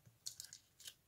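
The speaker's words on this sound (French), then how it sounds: "Et je découpe" Scissors cut through paper in a few quick, quiet snips, separate short crisp strokes in near silence.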